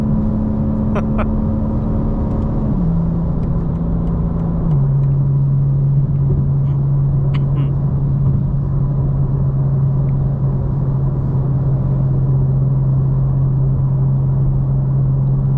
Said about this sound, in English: what it's like to daily drive an M4 CS on the highway